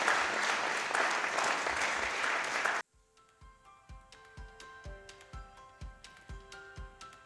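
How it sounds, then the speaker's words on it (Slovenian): Audience applause at an innovation awards ceremony, loud continuous clapping that cuts off abruptly, followed by a sequence of sharp rhythmic clicks or beats with ringing tones. "naš aplavz še enkrat tudi ne bo škodil"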